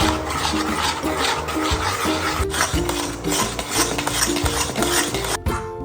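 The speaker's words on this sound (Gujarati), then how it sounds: "જ્યાં સુધી આ ઠીક ના થઈ જાય ત્યાં સુધી આપણે આને સતત હલાવતા રહીશું" Sesame cashew katli batter is stirred steadily in a pan over a gas flame, giving continuous close scraping and rubbing throughout with no talking.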